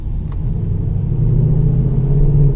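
A 2012 Mercedes C63 AMG with a transmission fault strains to pull away from a stop, its engine giving a loud, steady low rumble that swells slightly without building speed.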